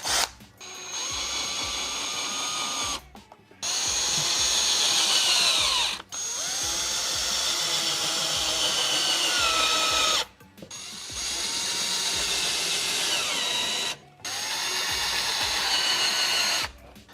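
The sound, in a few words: power drill driving screws into front lip splitter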